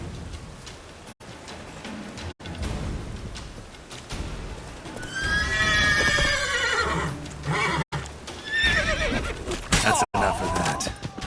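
Roach the horse in The Witcher 3 video game gives loud, wavering whinnies midway and again later, over rhythmic galloping hoofbeats and a busy game soundscape.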